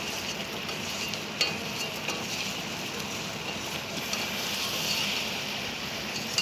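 Food being stirred gently in a pan over a low gas flame, a soft steady scraping and sizzle that stays even and continuous throughout with a couple of faint knocks.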